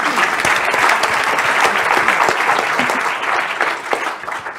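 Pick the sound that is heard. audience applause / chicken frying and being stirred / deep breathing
audience applause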